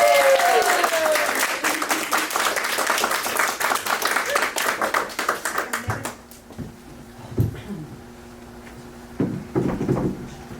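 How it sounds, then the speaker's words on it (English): A comedy club crowd at The Improv applauds a stand-up comedian being welcomed to the stage, loud sustained clapping that breaks into scattered claps and fades after about six seconds, with some voices and movement. "Give a big hand for the very funny Naveen Kumar."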